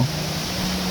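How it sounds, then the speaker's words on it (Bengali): A small forest stream near Madhabkunda waterfall flows steadily, a close, even wash of running water with no pauses and no voices. "এটা কিন্তু আসলে ঝর্ণার শব্দ না, এটা ছোট্ট একটা ঝিরির মতো।"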